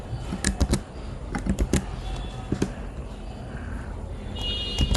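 Rapid, uneven keystrokes on a computer keyboard as code is typed, close and clear, coming in bursts with short pauses over a low background hum.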